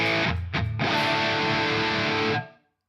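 Humbucker-equipped electric guitar through a Quad Cortex, a loud distorted chord struck, briefly choked, then restruck and held for about two seconds before cutting off cleanly.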